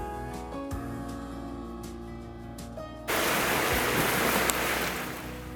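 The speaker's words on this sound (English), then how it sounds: "The rain came down for a bit, and the awning earned its keep." Rain suddenly starts pouring onto an awning, a dense, steady hiss of drops drumming close by, replacing a quieter background of hum and tones.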